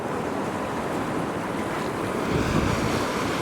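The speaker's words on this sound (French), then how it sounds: "On a la mer là aussi." Sea waves and wind roar in a continuous broadband rush, with a gentle swell of surf building near the end and no voices.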